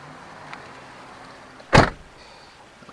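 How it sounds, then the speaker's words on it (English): A 2008 Lexus IS250 car door shuts with one solid, close thud, preceded by faint cabin hum and followed by quiet small clicks. "Nice solid door closing sound."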